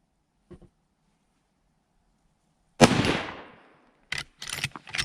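A Winchester 30-30 Model 94 lever-action rifle fires one loud, sharp shot that rings out and decays over about a second. Several quick clacks and pops follow, with a faint short noise before the shot.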